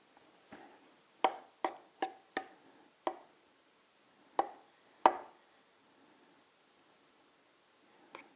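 Warm cooked sticky rice is mixed with coconut cream, heard as a scattered series of crisp spoon clicks and taps against the bowl, faint and close, with quiet pauses between and no talking.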